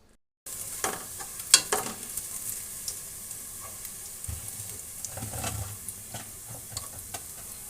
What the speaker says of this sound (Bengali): আর বাকিটা কড়া করে ভেজে নেব।